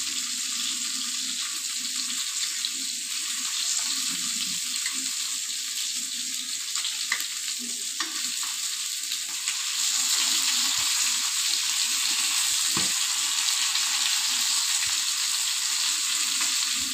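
Mackerel fillets fry in a pan while being pressed down, giving a close, loud, continuous sizzle that swells slightly partway through, with occasional soft scrapes and clicks.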